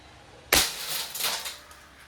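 A single sharp crack of a Benjamin Prowler .22 break barrel nitro piston air rifle firing a lead pellet, followed by a brief rattling echo in a quiet space.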